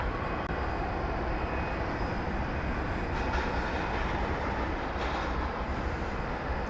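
A FedEx jet passing near DFW Airport makes a steady, loud rumbling roar that holds evenly throughout, with faint higher whines drifting above it.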